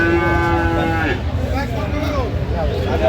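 A Friesian bull calf moos loudly and close by in one drawn-out call, followed by rougher, lower vocal sounds and background noise.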